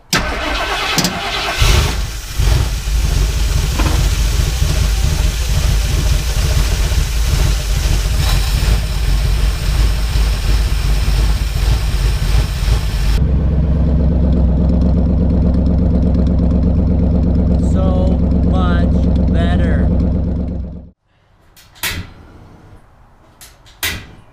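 A 1978 Ford Bronco with a 351M V8 runs loud and steady, a rough continuous rumble that drops to a lower idle partway through and then cuts off, followed by a few faint knocks.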